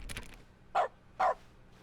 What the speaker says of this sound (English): What the dog doing?